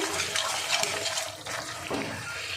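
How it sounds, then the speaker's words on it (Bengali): Boiled lentils pour from a container into a pan of spiced vegetarian cooking, a steady wet sloshing pour that runs about two and a half seconds close up, with no voices. "এবার আমি যে ডালটা সিদ্ধ করে রেখেছিলাম সেই ডালটা এর মধ্যে দিয়ে দেবো।"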